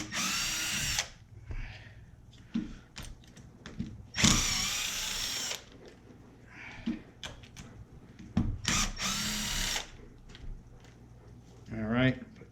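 A power drill backs four screws out of an Arrma Kraton 8S RC car in a few loud, whirring bursts, with pauses of handling noise between them and someone talking throughout.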